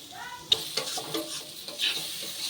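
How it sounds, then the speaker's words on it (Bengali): Potatoes fry lightly in a little oil, making a quiet sizzle broken by a few sharp clinks of a spatula against the pan. "এভাবে আলুটা কিন্তু কম তেলে হালকা হালকা করে ভেজে নিতে হবে।"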